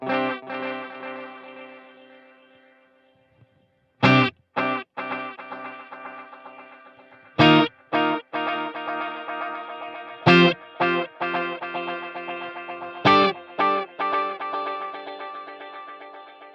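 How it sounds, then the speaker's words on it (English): An electric guitar runs through a Wampler Ethereal reverb and delay pedal in ambient mode, its delays feeding back on themselves. Sharp chord hits repeat, each swelling into a thick, lingering wash that carries between strikes. "the ambient mode. That's where the delays are going to kind of feedback on themselves."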